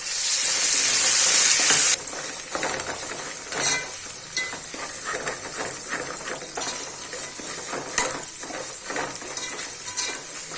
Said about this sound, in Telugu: స్మెల్ వెళ్ళేంత వరకు వేయించుకోండి.